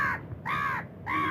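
A crow at a shop caws for eggs, three loud, harsh caws close by with short gaps between them and no talk.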